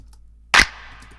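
Layered finger snap samples in a music production hit once as a sharp, bright crack, followed by a faint lingering textured tail, with no other sound around it.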